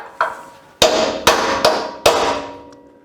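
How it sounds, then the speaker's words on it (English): Steel drift struck by a hammer to knock out a rivet from a Ford F100 spring hanger bracket, four loud ringing metallic blows after a lighter first tap, close and alone with short decaying rings. "let's give it a whack with this drift and see if it's going to move"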